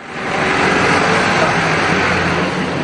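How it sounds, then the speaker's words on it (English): A noisy truck passing close by, a loud continuous engine and road rumble that swells in and holds steady for the whole stretch, with no talking audible. "a noisy truck makes it hard to hear"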